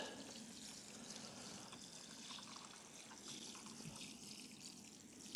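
Water from a 10-litre load pours over a 20-foot row of peas on an allotment, a soft, steady trickling splash that runs continuously and faintly.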